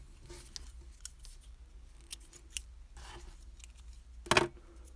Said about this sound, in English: Now we can just cut the yarn.